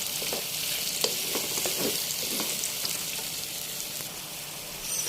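Prawns sizzle in hot oil with curry leaves, sliced onions and green chilies, a steady dense crackle with occasional stirring scrapes, close and continuous with no talk.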